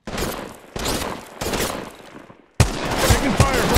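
Apex Legends gunfire, loud close bursts of rapid shots in several quick volleys separated by brief gaps, with heavier impacts at the end.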